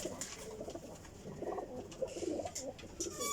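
White King pigeons coo softly in a series of low, rounded calls that repeat irregularly at close range, faint against a quiet background.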